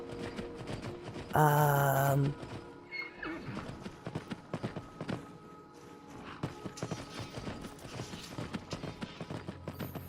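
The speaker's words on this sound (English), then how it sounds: "Let's take the horsey." A horse in Skyrim VR gives one loud, long whinny near the start, followed by steady clip-clop hoofbeats at a walking pace that carry on to the end.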